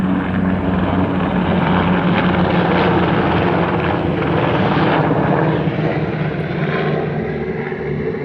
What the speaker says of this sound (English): They look like they're military choppers.